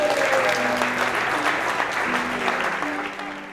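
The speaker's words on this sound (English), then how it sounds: "and for that I think you deserve a round of applause." Wedding guests at a reception applauding, a full steady round of clapping that tapers slightly near the end, with faint voices underneath.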